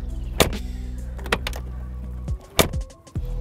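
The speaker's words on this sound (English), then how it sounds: "Opening and closing it feels so heavy, feels so substantial." The heavy door of a 2019 Mercedes-AMG G63 thuds shut a few times, close and solid, over a steady low engine hum.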